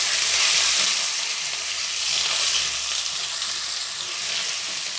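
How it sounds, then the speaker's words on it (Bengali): Whole spices and ginger-garlic paste fry in oil in a pan, giving a steady, loud, close sizzle with soft stirring throughout, and no talking. "ফোড়নটা ভালো করে ভাজা হয়ে গেছে। এবার আমি 1 চামচ আদা রসুন বাটা দিয়ে দিলাম।"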